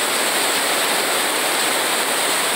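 Water pouring over the spillway of the overflowing Acaraú Mirim dam in the backlands of Massapê, Ceará, a steady, dense broadband rush like a waterfall, loud and continuous with no voices.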